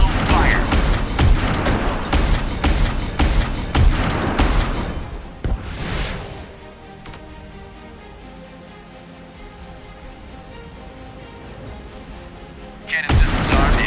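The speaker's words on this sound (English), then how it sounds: "Missiles prepared for launch." Missiles launch from a silo aboard a warship in the naval battle game Warships Mobile, a dense run of loud booming blasts that cuts off into a quiet hum before another burst at the end.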